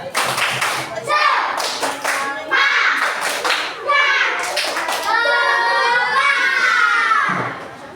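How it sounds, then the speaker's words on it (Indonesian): A grade 4 classroom performs a rhythmic spirit clap, bursts of children's synchronized handclaps alternating with loud chanted children's voices in a patterned call-and-clap sequence. "Dengan cara kita tepuk semangat."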